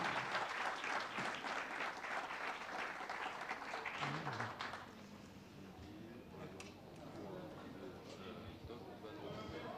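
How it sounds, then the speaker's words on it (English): An audience at a conference plenary panel on NATO and the South Atlantic breaks into dense, sustained applause that fades to scattered clapping and room murmur, with a voice speaking over the hall. "This is your applause."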